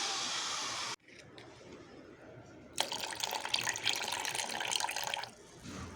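Aloe vera, green chili and turmeric water poured and mixed into another liquid for hibiscus plant feed: a steady close splashing pour, a pause, then a brighter, louder stream of liquid for a few seconds.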